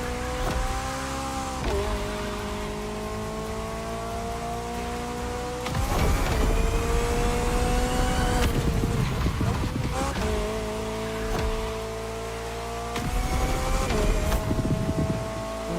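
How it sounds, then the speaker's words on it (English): A McLaren drifting at about 150 km/h in The Crew Motorfest video game, engine whining in long sustained notes that dip and climb again with gear changes, loud and close, with tyre hiss and roar surging in bursts. "Drifting at 150 k's an hour, lovely."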